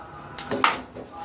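A large bread-based pizza being flipped in an oiled frying pan, giving a single short clatter of pan and utensil against a quiet kitchen background.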